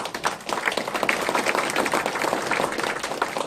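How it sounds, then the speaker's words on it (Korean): Applause at the opening ceremony of a Korean industrial development institute branch office in Gumi. The crowd claps steadily and energetically with crisp, individual claps audible throughout, fairly close and continuous. "우리 백용훈 박사님께 다시 한번 박수 한번 보내드리겠습니다"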